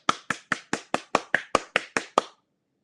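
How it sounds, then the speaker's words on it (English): Eleven crisp hand claps close by, evenly spaced in a steady rhythm, then silence. "let's give them a round of applause"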